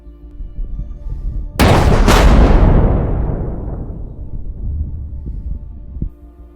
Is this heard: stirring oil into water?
no